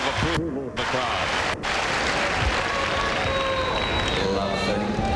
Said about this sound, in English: Brings a roar of approval of the crowd.